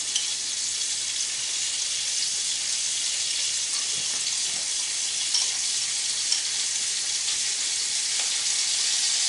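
Minced garlic fries in a hot pan with a steady, loud, hissing sizzle that continues without a break and has faint crackles mixed in.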